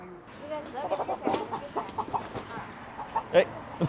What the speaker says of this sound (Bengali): মুরগি দেখেন দৌড়াদৌড়ি করতেছে